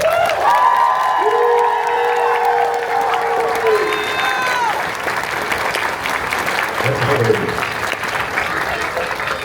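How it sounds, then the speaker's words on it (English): A crowd at a convention panel claps loudly and steadily, with a few cheers mixed in, while tonal music or sound effects play over the first few seconds. "So give them a round of applause."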